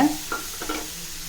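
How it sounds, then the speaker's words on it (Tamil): Ground coconut paste sautéed in a pan over low heat, a soft close sizzle with a few brief scraping stirs over roughly a second and a half. "இது மாதிரி நல்லா சுருளாக வதக்கிக்கோங்க"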